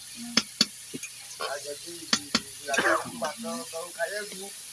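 Mustard masala for a rohu fish curry sizzling and frying in a pan, a steady crackle with a few sharp metallic clinks of stirring, while someone talks over it throughout.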